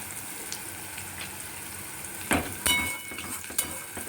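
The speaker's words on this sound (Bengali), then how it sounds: "এবার এটাকে আবার ভালো করে খুব নাড়াচাড়া করতে হবে" Capsicum and chhana sizzle gently in a pan as a spatula stirs and scrapes, with a few sharper scraping strokes over a soft, steady frying hiss.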